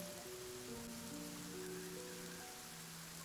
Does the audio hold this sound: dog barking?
no